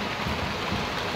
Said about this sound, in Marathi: पावसाला सुरुवात झाली इकडे.